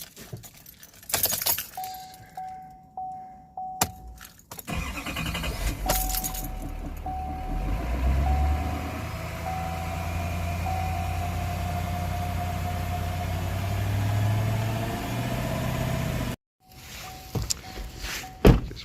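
A 2020 GMC Sierra 3500HD with a 6.6 turbo diesel, after an oil change: keys jangle, then the engine starts and holds a steady, loud idle and rev for about ten seconds before cutting off, followed by clicks.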